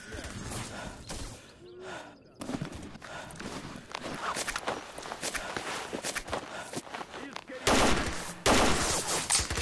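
Gunshots ring out in STALKER Anomaly, scattered sharp cracks among footsteps, with heavier, louder bursts near the end.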